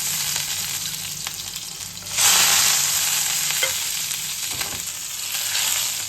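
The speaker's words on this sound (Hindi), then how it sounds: "यहाँ मैंने 2 चम्मच सरसों का तेल लिया है रायते में बघार लगाने के लिए।" Cumin tempering sizzles in two spoons of hot mustard oil for raita. A continuous close frying hiss swells sharply about a third of the way in, then stays loud and bubbling to the end.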